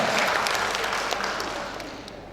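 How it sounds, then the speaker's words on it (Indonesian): Audience applause at an umrah travel seminar in Dumai, a dense, loud burst of many hands clapping that gradually fades. "Tepuk tangan kalau luar biasa, ya."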